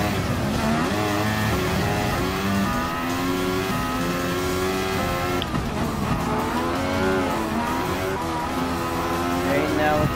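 Mercedes-AMG F1 race cars in Gran Turismo Sport scream at high revs with rising and falling engine pitch as several cars chase closely, loud and continuous throughout.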